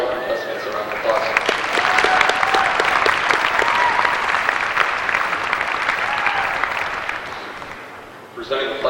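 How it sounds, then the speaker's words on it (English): Applause for contestants at a 1993 FFA state leadership conference session fills the hall, a sustained roar of many hands clapping that fades near the end as a voice comes in underneath. "Let's give all these fine contestants a round of applause."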